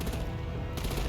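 Artillery gunfire in a Gotham video game: a dense, continuous roar of rapid shots filling the short moment, loud and close with no voices over it.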